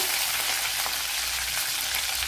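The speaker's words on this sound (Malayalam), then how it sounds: "ഇവിടെ ഒന്നര ടേബിൾ സ്പൂൺ വെളിച്ചെണ്ണ ഒഴിച്ചുകൊണ്ട് അതിലേക്ക് കടുക് ഇട്ട് കൊടുത്തിട്ടുണ്ട്" Mustard seeds crackle and sizzle in hot coconut oil in a pan, a dense, steady frying hiss heard up close with no voices.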